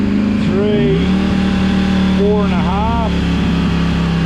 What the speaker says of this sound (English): What I do is rev it at all different revs up to about 3